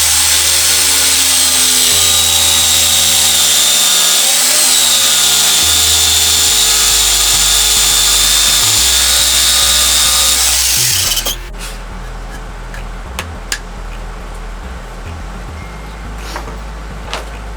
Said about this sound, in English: That takes a little bit longer because the jigsaw, and it's got the wide teeth instead of fine teeth